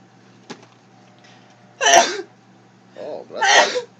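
A person sneezes twice in quick succession indoors, two loud, sharp bursts separated by a short breathy intake, with a faint click beforehand and near-silence around them.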